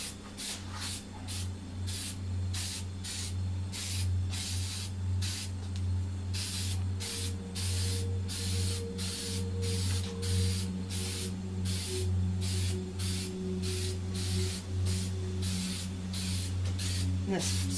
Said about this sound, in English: this spray painting these like this kind of fills the pores of the concrete